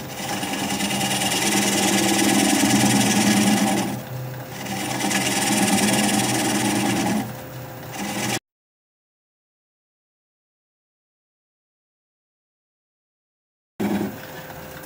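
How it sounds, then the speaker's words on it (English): Wood lathe turning a small bowl with a 3/8 inch swept-back bowl gouge, a steady loud scraping, rasping cut with brief dips in between, then the machine cuts out to silence before the cutting resumes briefly at the end. "I'm going to switch to a 3/8 inch sweatback bowl gouge so I can get in there a little tighter."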